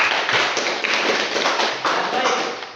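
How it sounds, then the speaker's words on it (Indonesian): Classroom applause for a student named Mais, a dense continuous patter of many hands clapping at close range, steady for a few seconds with a slight fade at the end. "Tepuk tangan untuk Mais."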